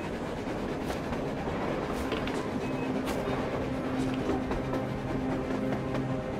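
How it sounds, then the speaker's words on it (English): A train rolling along on the surface in the video game Metro, a steady rumbling clatter with faint squeals, continuous and fairly near. "A train! A damn train on the surface!"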